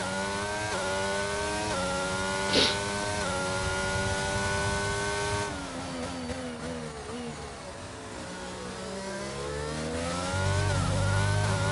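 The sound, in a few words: racing car engine, onboard with driver Charlie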